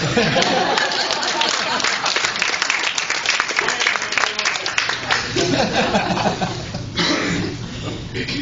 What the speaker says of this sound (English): Let's give a round of applause to Matt the hair.